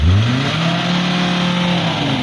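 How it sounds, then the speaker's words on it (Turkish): A Volkswagen Transporter van engine revs hard and close, its pitch rising quickly then holding at a loud, strained whine before easing slightly near the end. "Ara gaz ver. Sert sert yükle. Bas bırak. Bas sert bas."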